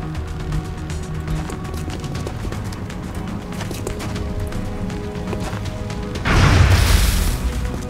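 A rocket launcher firing in the turn-based strategy game XCOM, a loud sustained blast swelling late over a dense bed of game noise and rumble.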